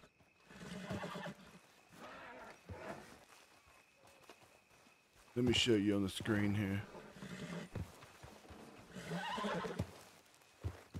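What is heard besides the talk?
horse neighing in a video game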